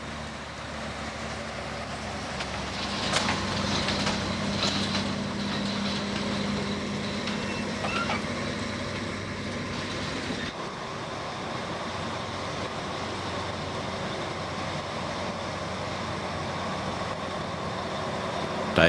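A livestock truck backs up to a loading ramp during an outback Queensland sheep lift, its diesel engine rumbling steadily with tonal whine and clanks in the first half before settling to a lower drone.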